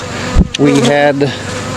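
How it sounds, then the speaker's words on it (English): A bee buzzes close by outdoors near a bear fence, a loud droning hum that swells and wavers for about a second amid brief rustling. "I'm still trying to get away from one of these bees here before she gets me."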